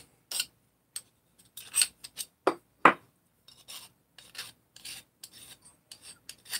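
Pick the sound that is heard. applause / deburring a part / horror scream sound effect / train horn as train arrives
deburring a part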